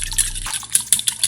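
Liquid mixture with cinnamon being stirred for French toast lollipops, giving brief wet sloshing and dripping sounds in quick irregular bursts, close and fairly loud.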